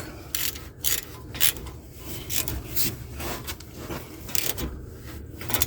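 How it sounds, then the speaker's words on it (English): Brake caliper bolts on a Chevy Equinox are tightened with a ratchet, giving bursts of rapid clicking and metallic scraping in short repeated runs, close up and fairly loud, with no talking. "just gonna tighten these bolts back"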